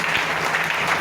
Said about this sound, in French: On va acclamer pour la belle sœur.